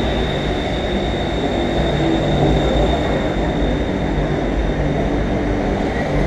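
A train approaching a platform at rush hour gives a steady low rumble and rolling wheel noise with a thin high whine, continuous and fairly loud throughout, with no talking.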